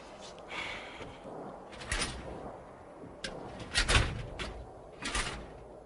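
Gray steel cabinet drawers are pulled open in a small closet-like room as a radio drama sound effect, several metallic scrapes and clunks spaced irregularly, fairly close and moderately loud.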